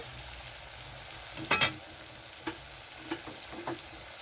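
Spice paste for a fish roe curry sizzles while frying in a pan, a soft continuous hiss broken by a sharp double clatter of utensils midway and a few lighter taps afterward.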